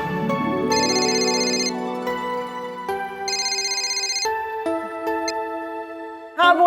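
A telephone ringtone sounds in two repeated bursts while someone calls Anjali in a Hindi sitcom household, a warbling electronic ring over steady background music.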